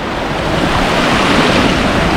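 Heavy, steady rush of river water pouring at the abandoned Monteja dam on the Guadiaro river, a loud continuous roar with no pauses and no voices.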